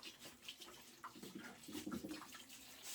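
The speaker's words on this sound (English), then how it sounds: "I usually just pour the water into the potting soil and not on the plant itself." Water is poured onto the potting soil around a potted lemongrass plant, giving soft, faint splashing and trickling with uneven bursts, close by and quiet.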